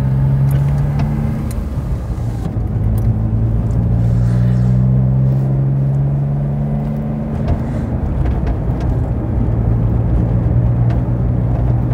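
A Smart ForTwo cruises on an open road, its engine hum, tyre roar and cabin rumble steady and loud throughout, with a low droning tone that shifts pitch slightly as speed changes.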